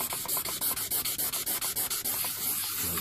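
Wet sanding of a vintage enamel sign with 1200 grit sandpaper and soapy water, a steady run of rapid rhythmic back-and-forth rubbing strokes, close and fairly loud, with no voices.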